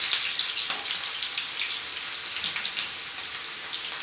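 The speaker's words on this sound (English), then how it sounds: "now I'm going to put the onions into this oil and it's going to sizzle" Onions sizzle and crackle steadily in hot oil at close range, a bright hiss with small pops, alone without talk.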